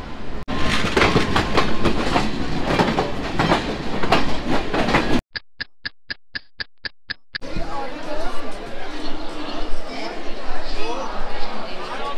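Inside a moving passenger train in India, a loud clattering rumble carries under crowd chatter, broken midway by a short run of regular electronic beeps before the rolling noise and voices return.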